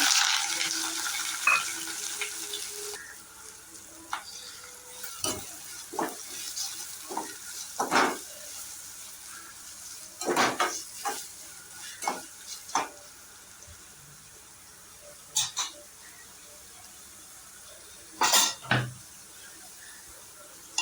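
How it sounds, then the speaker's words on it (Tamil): Onion, garlic, green chilli and curry leaves sauté in a pan for an egg curry, a soft steady sizzle broken by repeated clinks and scrapes of a spoon stirring against the metal. "வெங்காயம் நல்லா வதங்கட்டும்"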